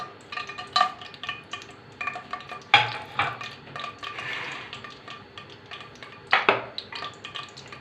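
Whole garam masala spices frying in half a cup of hot oil, a soft sizzle under intermittent metallic scrapes and clinks of a spoon stirring against a pan, close and moderately quiet.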